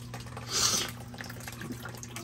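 Water trickles through a small filter in a 50-gallon tote used as a lizard enclosure, a faint steady flow with one brief louder splash near the start.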